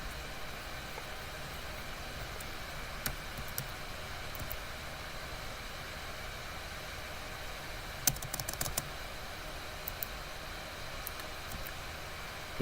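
Sparse keystrokes on a computer keyboard during a game livestream, isolated soft taps and a brief cluster of quick presses over a constant low hiss, fairly faint and with no talking.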